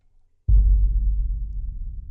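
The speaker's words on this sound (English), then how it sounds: "I sort of started with this sort of big boomer, and that was actually from Metropolis Arc 2." A big subsonic boom from the Metropolis Ark 2 orchestral sample library hits suddenly after a moment of near silence, then rumbles on with a deep, sustained low-end decay.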